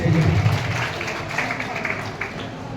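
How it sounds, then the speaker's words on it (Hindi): An audience at an outdoor street play in Haryana, India applauds with dense, continuous clapping that stays fairly loud before gradually thinning out, with a voice briefly audible underneath. "जोरदार तालियां सबके लिए।"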